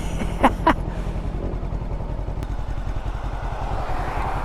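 FKM ARY 500 motorcycle with a 360 camera mounted, idling during a road loop through Mindanao, Philippines: a steady low, pulsing engine thrum close by, with a couple of brief clatters near the start.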